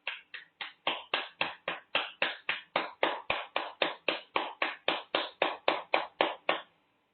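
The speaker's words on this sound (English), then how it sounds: "Keep clapping." Hands clap steadily, about two dozen sharp, evenly spaced claps at a brisk even rhythm, close and clear with nothing else behind them.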